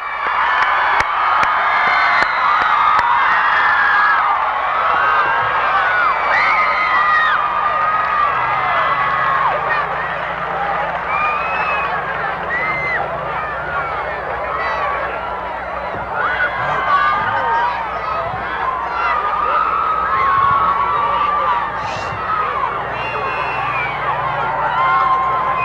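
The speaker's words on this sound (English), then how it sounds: "please give them a round of applause" At a naval academy commencement for the class of 1985, a large outdoor crowd cheers and whoops for the graduating class. Shouts, whistles and babble rise and fall steadily for the whole stretch, with no single voice dominating.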